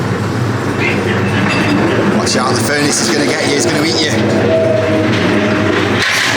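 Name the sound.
Cloggy's Ghost Train ride at Blackpool Pleasure Beach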